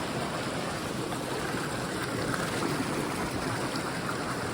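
The Jemez River in Jemez Springs, New Mexico, rushes and burbles steadily, heard up close as a continuous broadband wash of flowing water with no voices.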